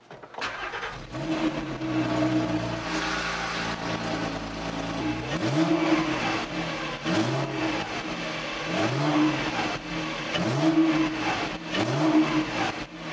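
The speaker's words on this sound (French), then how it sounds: "Vous allez voir que le bruit du flat-six est quand même très sympa." A flat-six sports car engine starts and then revs repeatedly from a collector's garage, with rising and falling throttle blips in a rhythmic series, loud and close with no talk.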